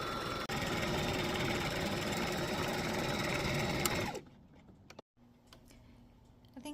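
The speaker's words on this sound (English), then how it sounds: "We are going to stitch down both sides." A sewing machine stitches down the sides of a Christmas stocking, running at a steady, rapid buzzing rhythm for about four seconds before stopping, followed by quiet handling sounds.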